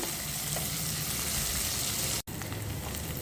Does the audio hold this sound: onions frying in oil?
yes